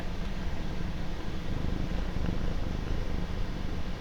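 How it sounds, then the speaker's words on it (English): Low, steady rumbling purr of a cat right at the microphone, continuous and close with a soft fluttering texture. "my cat is now here. Wonder if the microphone can pick up a cat."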